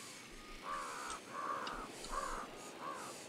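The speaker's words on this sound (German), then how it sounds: "Ganz viele Raben" Ravens caw in the jungle setting of the video game Ghost Recon Wildlands: four harsh, evenly spaced caws at moderate distance over a steady ambient hiss, with no talking.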